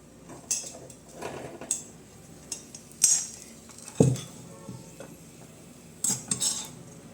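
Scattered scraping and clinking of a utensil against a bowl while mixing unniyappam batter with roasted coconut, irregular strokes with a few sharper knocks, close by and fairly quiet.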